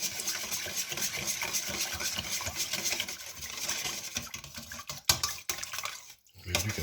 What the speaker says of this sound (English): So we're going to whisk this together very well.